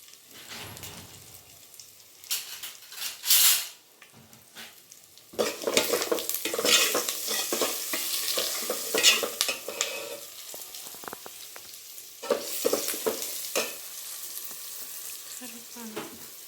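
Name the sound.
green chillies sizzling while being stir-fried in pan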